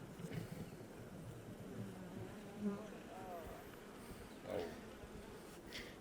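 Honey bees buzzing around a beehive frame outdoors: a faint, continuous low drone with occasional individual bees passing closer, over soft background noise.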